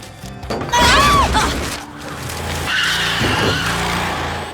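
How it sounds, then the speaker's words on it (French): In a cartoon, a strange vehicle arrives with a loud tire-squealing skid close by, and a rumbling motor follows as it comes to a stop. "Tiens, c'est quoi ce drôle de véhicule?"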